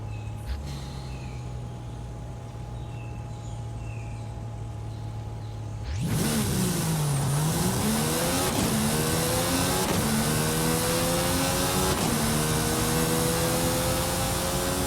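A Mercedes-AMG One in a racing game sits at a quiet hum for several seconds, then bursts into a loud, close engine roar. The pitch climbs repeatedly through rapid gear changes.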